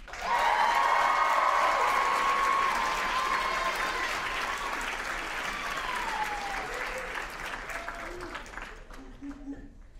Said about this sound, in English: Let's give the biggest round of applause for Matthew Downing.